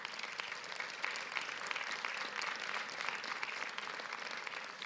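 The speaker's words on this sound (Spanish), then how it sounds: "démosle un fuerte aplauso al Señor" A church congregation bursts into sustained applause for the Lord at a worship service, a steady dense wash of clapping held at an even level throughout, with no voices rising above it.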